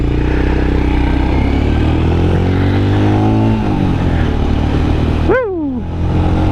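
A Royal Enfield Scram 411 motorcycle rides along, its engine droning loud and steady as the revs rise and drop across gear changes, close up with constant wind noise.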